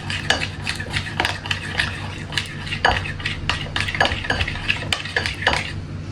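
A spoon stirs and mixes pasta sauce with chili sauce in a bowl, giving repeated close clinks and scrapes against the dish at an irregular rhythm over a steady low background hum.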